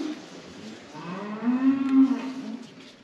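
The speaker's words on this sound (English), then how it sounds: "Those moos you can hear in the background, by the way, are not from the cow in the crush." Several cows moo from a nearby shed on a farm where hoof trimming is under way, long low calls swelling louder toward the middle and overlapping one another, with no talk over them.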